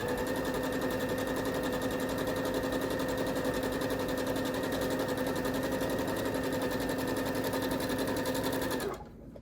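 A sewing machine stitching across a quilt runs in a loud, rapid, even mechanical whir for several seconds, then stops abruptly near the end.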